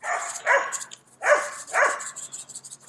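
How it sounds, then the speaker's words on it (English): Next-door neighbor's dogs barking outdoors at night, three distinct bark bursts at moderate distance with a quiet rural background between them. "Got the next door neighbor's dogs barking"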